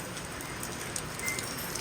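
Rain falls evenly onto a surface near a shop where water is pooling, a continuous soft patter and hiss with occasional brighter drops.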